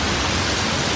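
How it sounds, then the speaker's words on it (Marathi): Heavy rain pours steadily at close range, a dense continuous hiss with no gaps or voices, filling the whole moment. "एवढा पाऊस पडलाय"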